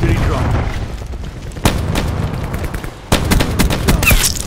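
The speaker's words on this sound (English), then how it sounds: "Cluster grenade." Cluster grenades go off in a video game as a series of loud, close explosive bursts with rumbling booms and crackling gunfire between them, and a voice talks briefly over the blasts.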